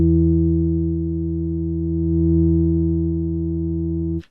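A steady low electronic test tone with buzzy harmonics, panned across the stereo field, drones on for about four seconds, swelling slightly in the middle before cutting off.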